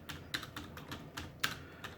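Quick, irregular typing on a computer keyboard, with sharp individual key clicks close by and faint in level, alone with no voices.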